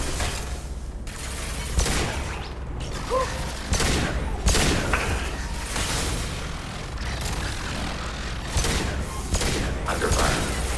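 Gunfire in a video game cracks out as sharp, spaced bursts over a busy background of mechanical rumble, with shots landing every second or two.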